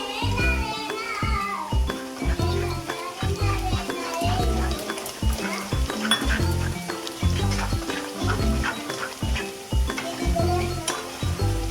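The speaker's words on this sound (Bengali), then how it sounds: "এখন মশলার সঙ্গে এটা আমি ভালো করে কষিয়ে নিব।" Soybean chunks are sautéed with spices and curd in a pan, giving a continuous sizzle broken by repeated stirring scrapes and clinks, under a talking voice and background music.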